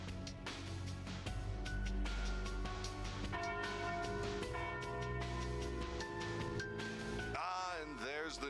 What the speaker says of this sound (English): And there's the noon bell.